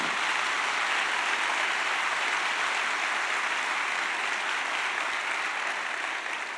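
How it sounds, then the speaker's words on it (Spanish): Steady, dense applause from a church congregation during a sermon, an even wash of clapping that continues without pause and without talking. "Dale un aplauso a Jesús."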